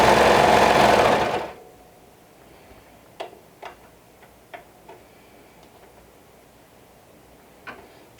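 A sewing machine runs a fast, loud stitching burst through fabric for about a second and a half, then stops, leaving a few faint, scattered ticks in a quiet room.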